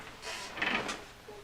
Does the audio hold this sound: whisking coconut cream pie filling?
no